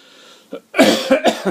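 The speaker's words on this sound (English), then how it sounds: "Sorry, coughing here." A few sharp, close coughs in quick succession after a brief quiet pause, loud and raspy, with no talking.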